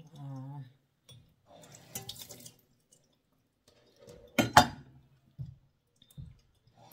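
Vegetables such as eggplant being rinsed in water, with scattered drips, small splashes and clicks, one louder splashing burst midway, and quiet gaps between.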